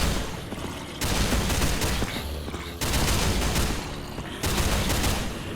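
An automated turret in the Minecraft Techguns mod fires in three long, loud bursts of rapid gunfire, separated by brief quieter gaps.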